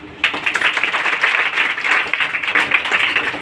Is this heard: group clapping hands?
yes